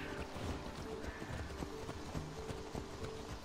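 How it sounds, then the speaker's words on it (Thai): Horse hooves clip-clop at a steady running pace as a rider crosses a wheat field in Assassin's Creed Odyssey, continuous and close over a rustling, windy background. "ขี่ม้าท่ามกลางทุ่งข้าวสาลี"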